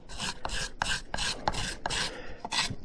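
A hand scraper is drawn over the wooden handle of an old hammer in brisk repeated strokes, a close, raspy shaving sound about every third of a second, steady and with no talking.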